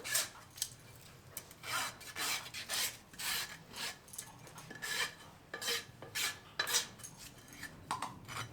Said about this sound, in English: Rasp off our sharp edges.